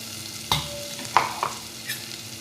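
A spoon stirs salt, turmeric, coriander powder and ground paste together in a pan over a low flame for stuffed brinjal, giving a few sharp scrapes and soft clatters against a quiet background.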